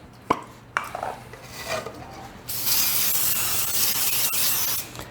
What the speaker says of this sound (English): I'm going to respray my parchment paper all over again because I want this to come off the cake too